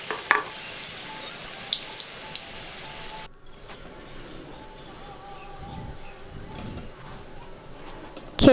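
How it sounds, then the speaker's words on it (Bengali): Bread chops frying in hot oil for a crispy Bengali-style snack, a soft steady sizzle with faint crackles that drops slightly in level partway through and carries on quietly to the end. "এরপর ব্রেডটা আবার দিয়ে দেবো গরম তেলের মধ্যে।"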